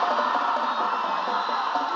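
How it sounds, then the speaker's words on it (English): A high school football student section cheers after a touchdown, a sustained roar of crowd shouting and whooping that stays loud and steady throughout. "Heritage student section still cheering as William Blount scores"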